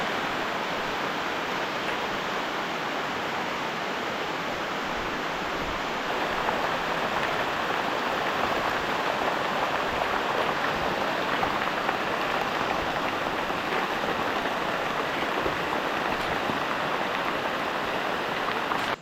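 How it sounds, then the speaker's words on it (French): Steady rain falls in a Borneo rainforest in Sarawak, Malaysia: a dense, even hiss of drops on leaves and ground that carries on without pause and with no voices. "la pluie est en train de se calmer"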